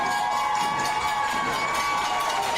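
Sustained crowd applause and cheering at a Miss Jamaica Festival Queen coronation show in St. Thomas, a dense steady roar of clapping with no clear gaps, loud and continuous throughout.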